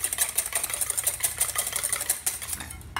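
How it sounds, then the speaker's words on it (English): Quick, rhythmic clinking of a whisk or fork beating one egg for a tomato pie custard in a restaurant kitchen, steady and fairly close, with a faint low hum underneath and no talking. "and whisk that up"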